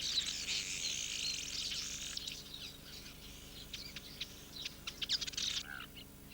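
Birds chirp and twitter during a bird-ringing expedition in Yemen, with a dense burst of high calls at first, then scattered sharp tweets and short phrases over a faint background hum, fairly quiet and a little distant.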